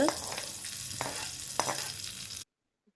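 Hot tempering is poured into mint kadhamba chutney, giving a bright sizzle with a few sharp crackles and stirring knocks before cutting off abruptly into silence.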